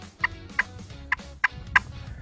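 Sharp, sparse clucks from a turkey call imitating a turkey, five short distinct notes spaced unevenly over a faint, low background.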